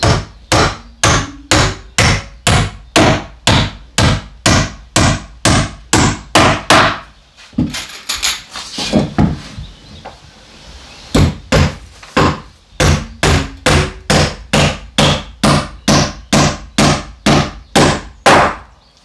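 Hammer driving new nails into wood at a rural homestead, struck in a steady run of loud, close blows with a brief pause midway before the rhythmic pounding resumes.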